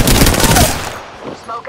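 Loud, dense burst of automatic gunfire from the Apex Legends battle royale game, rapid shots packed together for about a second before tapering into quieter game sounds, with a faint voice nearby.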